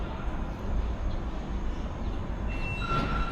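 A train rumbles in close and loud, with a heavy steady rolling noise, and high brake squeals ring out as it slows.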